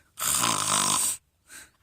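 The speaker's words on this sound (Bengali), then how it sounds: "এই যে দেখেন নাক ডাকতেছে কীভাবে" A cow's loud, raspy snore, one long rough inhale followed after a pause by a shorter, softer snort, heard up close.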